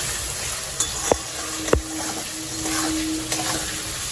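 Ingredients for capsicum pulao fry in a mix of oil and ghee, giving a soft, steady sizzle with a few sharp clicks of stirring against the pan; moderately quiet, with no talking.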